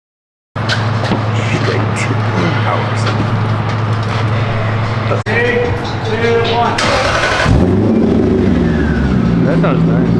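A straight-piped Lexus SC400 roars with a loud, raw exhaust drone that briefly cuts out, then rises in a rev near the end. Voices may mix in faintly.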